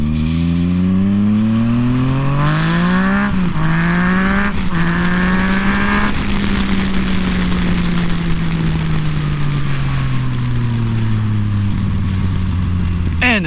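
A 2014 Yamaha FZ-09 motorcycle accelerating hard while riding, its engine note climbing through the revs, briefly dropping at gear shifts, then holding a loud sustained drone close to the microphone under heavy wind rush.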